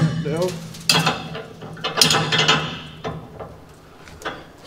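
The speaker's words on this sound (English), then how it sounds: "Just tighten those grub bolts" Grub bolts being tightened on a homemade rotisserie holding a Power Wagon cab, giving close metallic ratcheting and clanking in short bursts with a few sharper knocks, over a low steady hum.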